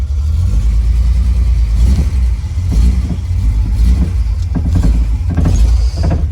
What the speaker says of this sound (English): That's the exhaust rattling in the back.